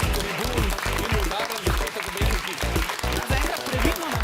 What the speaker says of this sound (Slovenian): Zaenkrat previdno navijanje